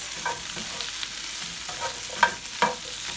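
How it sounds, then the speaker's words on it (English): Shrimp and vegetables fry in a pan while being stirred, a steady sizzle marked by a few sharp scraping clinks of the utensil against the pan, close by. "And then we're going to go ahead and stir it. Mix everything in together."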